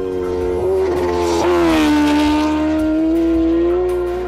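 Kawasaki Ninja H2R superbike screaming at high revs during an onboard racing lap of the Isle of Man course, a loud, continuous engine howl that rises and shifts pitch steadily with no talk over it.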